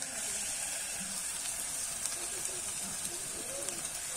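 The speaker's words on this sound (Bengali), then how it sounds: "এবারে কিন্তু মশলা মাখানো মাংসটা আমি দিয়ে দেবো" Spice-marinated meat fries in a pan with a soft, steady hiss and faint crackles, quiet overall, with traces of a voice in the background.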